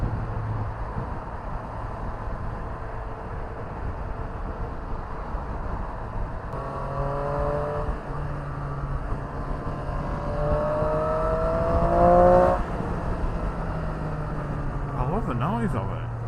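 A sport naked motorcycle engine, a Triumph Street Triple RS, revs and pulls through the gears with a rising harmonic whine. It sits under wind noise, and the engine swells loudest near the end.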